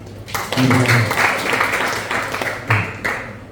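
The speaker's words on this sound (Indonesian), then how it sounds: "Tepuk tangan dulu buat kita semua." Church congregation clapping hands together during a sermon, a sustained wash of applause with some voices and shouts mixed in.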